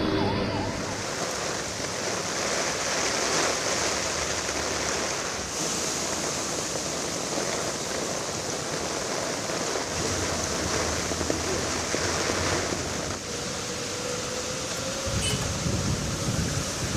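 Heavy rain and strong wind sweep across flooded roads with water running, forming a steady, dense roar with no breaks throughout.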